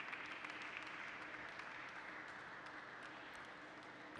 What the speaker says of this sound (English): you can hear applause coming from the other tables as well